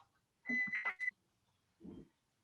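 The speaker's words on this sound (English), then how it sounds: "Oh, I forgot to turn the timer off." A kitchen timer going off during a casual home chat, a short bright electronic tone sounding in quick pulses, followed by a soft lower burst after a pause.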